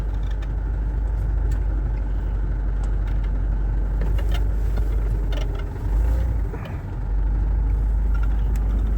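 Car driving along, a steady close low engine rumble and road noise throughout, dipping briefly partway through before resuming.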